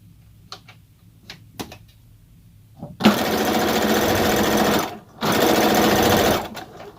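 Sewing machine running a straight stitch along elastic, a few soft clicks first, then two loud sustained bursts of rapid mechanical whirring close up, separated by a short pause, with no talk.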